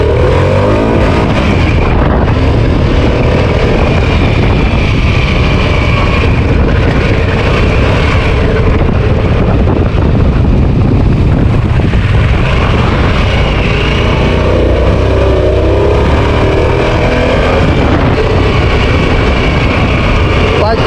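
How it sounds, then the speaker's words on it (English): A car launching hard in sport mode with maximum throttle, its engine and road noise a loud, steady roar that runs without a break from start to finish. "we in sport mode right out the gate. This should give us the max acceleration and throttle"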